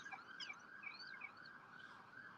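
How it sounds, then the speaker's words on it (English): An ambulance siren heard faintly from a distance, with a steady wavering wail running through the whole moment outdoors in a park and no voices over it. "I'm going to let that ambulance go by"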